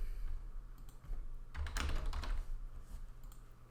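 Someone types on a computer keyboard in a quick, close burst of key clicks that peaks midway and trails off, with no talking.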